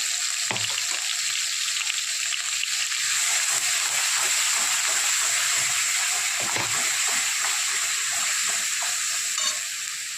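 Masala, onion, garlic, coconut and peas sizzle in a few ladles of hot oil, a loud and steady frying hiss that runs without a break, with faint crackles under it.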